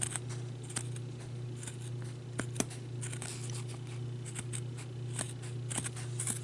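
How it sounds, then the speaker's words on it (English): Scissors snipping glitter lace for a Christmas ornament, a series of short crisp cuts at an irregular pace, faint and close, over a steady low hum. "I'm going to cut that off so I can keep cutting a little easier."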